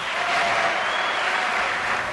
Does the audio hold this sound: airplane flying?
no